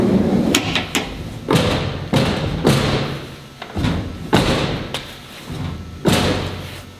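The flat bed lid of an XP camper on a truck is lowered and closed again and again, producing a string of loud, close thuds and slams with rattly scraping between them.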